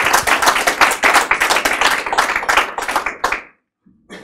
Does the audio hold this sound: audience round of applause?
yes